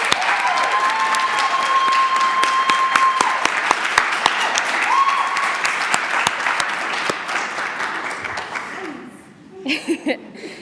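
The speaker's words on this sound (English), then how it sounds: "let's give another round of applause for JAILYN" Audience applause fills the room at an honors conference presentation, steady clapping with a few chuckles mixed in, then thinning out and ending in a handful of scattered final claps.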